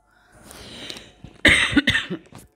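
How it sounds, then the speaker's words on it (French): A person coughs several times in a short burst, loud and close, with a quieter throat noise leading in. "Excusez-moi, j'avais besoin de tousser."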